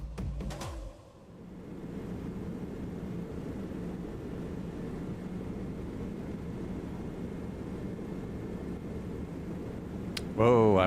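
BO 105 helicopter flying in a flight simulator, a steady low engine and rotor drone that runs almost unbroken, with a brief rise in level near the end.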